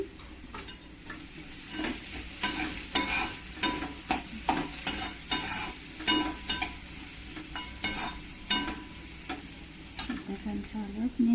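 Onions frying in a pan with turmeric for a potato bhaji, soft sizzling under intermittent stirring and spoon clicks against the pot, close and moderately quiet.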